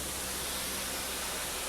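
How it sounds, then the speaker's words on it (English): Steady broadband steam hiss from an open cylinder cock on the Taw Valley steam locomotive, constant and unbroken, close and filling the whole moment with no other sound. "That noise you can hear is the cylinder cock still open."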